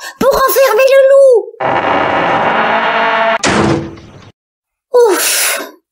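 A door slams shut to trap a wolf in a French Halloween story reading: a loud, sharp bang with a short decaying rumble, coming after a moaning voice and a long noisy rush, followed by a brief breathy burst.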